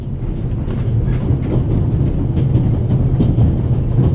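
The interior of a moving train in The Raven Remastered, a steady low rumbling roll with faint rhythmic clatter of wheels on track, continuous and fairly loud with no voices.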